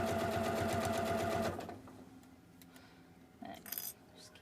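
A sewing machine stitching through layers of a collar stand: a fast, loud, rhythmic motor-and-needle chatter for about a second and a half, then it stops, followed by faint handling clinks and rustles.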